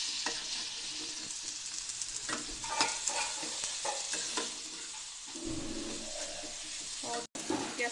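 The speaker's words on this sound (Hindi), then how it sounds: "इसमें डालिए पनीर क्यूब, अच्छे से मिक्स कर लीजिए" Paneer cubes stirred into a cooking mixture in a pan, a continuous close sizzle with soft scraping and stirring, briefly dipping quiet near the end.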